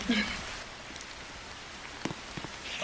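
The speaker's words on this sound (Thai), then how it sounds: "เอาฝนตกแล้วครับ" Rain falling in the Roblox game Brookhaven, a steady soft patter of drops on surfaces with a few louder splashes, moderately quiet and continuous.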